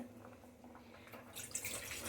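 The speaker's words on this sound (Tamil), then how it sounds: "இரநூறு எம்எல் தண்ணி ஊற்றிக்கணும்" Water pours into a 300 ml tumbler, a soft, splashy trickle that swells louder in the second half of the short, quiet moment.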